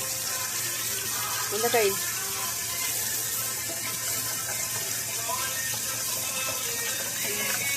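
Tap water streams steadily into a sink while cucumbers are washed, a constant close hiss of flow with brief splashes, and people talk over it now and then.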